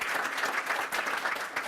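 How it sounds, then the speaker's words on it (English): A room of board members and guests gives a steady round of applause to honour a generous board member, the dense clapping continuous and fairly close throughout. "I'd like to give her a round of applause too, thanking her for that"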